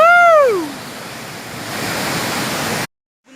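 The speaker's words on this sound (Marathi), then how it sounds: "हा असा वरून बांबोलीचा वज्राई धबधबा" The Vajrai waterfall at Bamboli roars as a loud, steady rushing wash after a voice whoops at the start, then cuts off abruptly near the end.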